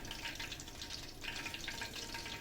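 Boneless chicken 65 pieces frying in hot oil, a steady close hiss and crackle of bubbling oil running through the whole stretch without talk.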